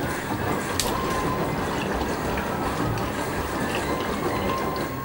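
Water runs steadily while rinsing, a soft even hiss and trickle throughout with a faint clink near the start.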